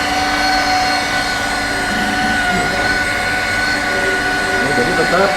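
A polishing machine runs at speed 3, about 1200 rpm, during a Menzerna car-polishing training session. It gives a loud, steady whine with sustained tones over constant broadband roar, and a voice is faintly present.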